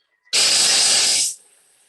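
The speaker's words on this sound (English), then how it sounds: "it's going to just chop these cashew nuts up for 30 seconds" Thermomix food processor blades chopping cashew nuts: a loud, steady whirring roar that starts abruptly, holds for about a second and then cuts off sharply, leaving a faint hum.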